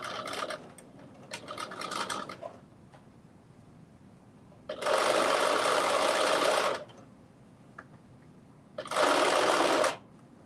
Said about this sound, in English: now at 1/4 of an inch seam allowance, I am going to stitch right across that neckline only